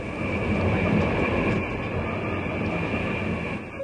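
A 1989 British Rail train rumbles along at speed through Cambridgeshire, heard from inside the carriage as a loud, continuous roar with a faint steady whine above it.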